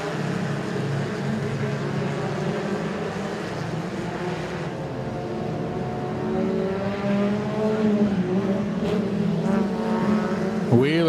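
Compact race cars at Moler Raceway Park drone around the dirt oval under green-flag racing, a continuous layered engine roar that rises and shifts pitch as the pack passes, with an announcer talking over it.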